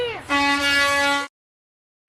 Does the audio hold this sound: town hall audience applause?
no